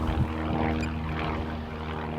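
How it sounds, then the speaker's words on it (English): An airplane passing directly overhead above a stadium construction site, a loud steady low engine roar with tonal drone that fills the whole moment without pause. "There's a plane right above my head."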